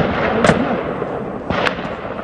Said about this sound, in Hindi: जबरदस्त फायरिंग